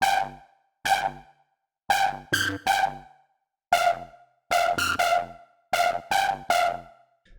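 Lead Elephant, a synth lead from an STMPD-style sample pack, fires short punchy stabs in a syncopated pattern, each hit bright and brassy with a quick decay and clean silence between the groups.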